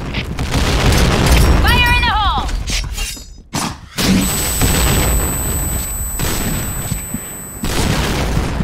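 A grenade goes off in a video game with a loud booming blast and shattering burst, surrounded by game sounds and people talking.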